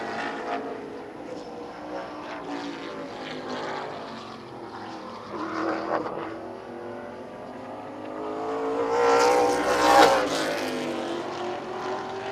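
A late model race car lapping Birch Run Speedway, its engine droning steadily at a distance, then swelling loud and close as it roars past before fading again.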